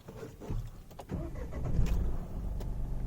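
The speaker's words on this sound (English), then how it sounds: "let me just turn on the engine of the car" A Mahindra Bolero Neo's engine is started with a key, giving a short crank that catches and settles into a low, rough idle, recorded close up and fairly quietly.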